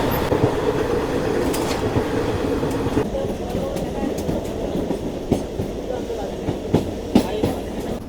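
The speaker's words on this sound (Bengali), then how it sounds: "আমরা এখন ট্রেনে যাচ্ছি" Train rolling along tracks in Kashmir near Pampore, a continuous rumbling interior drone with faint rhythmic clicks and occasional sharp ticks, heard from on board with some background voices.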